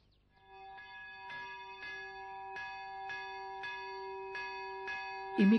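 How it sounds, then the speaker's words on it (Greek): A small, sweet-toned church bell at a women's monastery strikes about ten times in an even, steady rhythm, each ring leaving a long ringing tone that builds softly from near silence and carries alone without voices. "Η μικρή γλυκόλαλη καμπάνα στέλνει το μήνυμα στη μικρή αδελφότητα να ετοιμαστεί για τα λατρευτικά της καθήκοντα."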